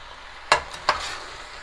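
Bacon and cabbage sizzle steadily in a pan, with two distinct scraping stirs of a utensil cutting through the hiss, close and moderately loud.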